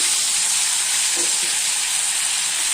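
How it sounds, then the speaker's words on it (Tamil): Ground tomato poured into a hot frying pan for a lady finger tamarind gravy sizzles loudly and steadily, a bright continuous hiss with no talk. "இப்போ தக்காளி அரைச்சி வச்சுருந்தோம் இல்லைங்களா, அதை ஊற்றிக்கலாம்."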